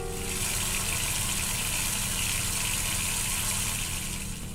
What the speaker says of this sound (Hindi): तब वॉशरूम से पानी गिरने की आवाज़ आई।